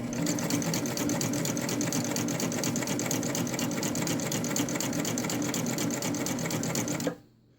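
A cover stitch machine runs continuously while sewing exercise wear, a close, steady, fast mechanical whir with rapid needle rhythm lasting about seven seconds before stopping abruptly.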